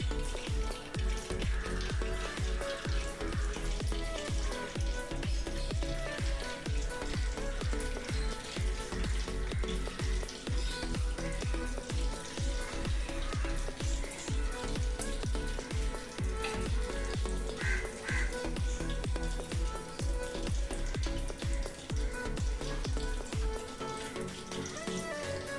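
Chicken pieces fry steadily in hot oil for chili chicken, a dense, continuous crackling sizzle heard up close and alone.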